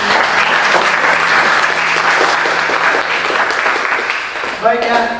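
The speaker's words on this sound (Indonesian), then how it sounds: "Kita kasih aplaus dulu ya." Students in an automotive engineering classroom break into loud, sustained applause that fills the room, with a voice rising briefly near the end.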